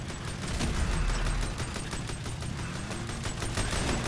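Dense, rapid full-auto gunfire rattles continuously in GTA 5 Online during a kart chase, loud and sustained throughout without a break.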